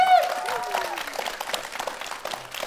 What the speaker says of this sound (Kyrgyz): кол чаап койсоңуздар болот